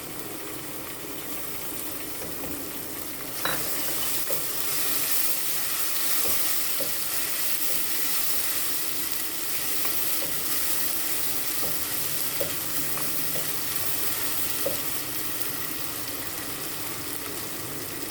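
Ginger-garlic paste fries with browning onions and a splash of water in a pan, giving a steady close sizzle broken by occasional scraping stirs.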